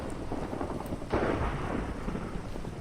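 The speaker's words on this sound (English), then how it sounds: "It looks pretty dramatic with the lightning literally hitting it on top." Lightning striking a lightning rod in the video game Minecraft, a sudden thunder crack followed by a rumbling roll that fades over a couple of seconds above steady rain-like background noise.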